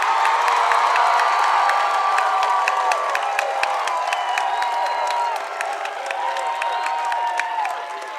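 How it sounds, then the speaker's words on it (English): A crowd in a high school applauds and cheers together, steady clapping with scattered whoops that fades slightly toward the end, heard from a moderate distance. "Please join me in a round of applause"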